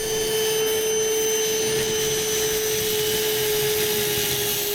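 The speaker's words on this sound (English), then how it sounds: "now to vacuum out the water in the vinegar mixture" A vacuum draws a water and vinegar mixture out of a boat, a steady whining motor drone with a constant tone and a rough sucking rush beneath it, close and unbroken, with no voices.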